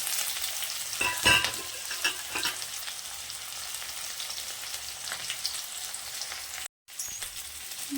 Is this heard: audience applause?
no